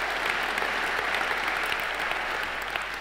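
Steady, dense applause from a large indoor audience fills the room at the opening ceremony of the Leuphana central building, continuous and even throughout, with no voices over it.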